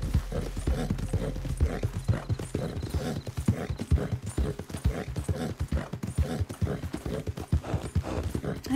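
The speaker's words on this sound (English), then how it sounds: "I never heard your horse be so damn loud." Galloping horse hooves from the video game Red Dead Redemption 2 pound in a fast, continuous clip-clop rhythm, close and loud throughout, with no talk over them.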